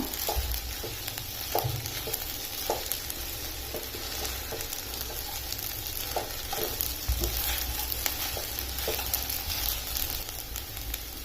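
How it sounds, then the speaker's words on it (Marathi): Sabudana being stirred in a pan on high flame gives off a steady close sizzle, punctuated by repeated scraping taps of a spoon against the pan, with no talk over it. "एक मिनिट हाय फ्लेमवर आपण आता हे हलवून घेऊया"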